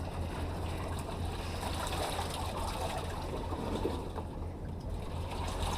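Water drains slowly out of a flooded boat locker, a soft continuous trickle and gurgle heard close but quiet, steady for several seconds with no talking.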